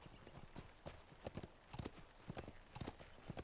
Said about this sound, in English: A wild donkey?